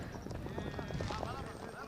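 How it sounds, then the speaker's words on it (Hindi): Hooves clip-clop from horses running in a Badi Rewal horse race at Bhuj, Gujarat, a quick rhythmic patter under loud excited commentary and crowd noise. "ये सामने से आ रहा है नागराज घोड़ा है"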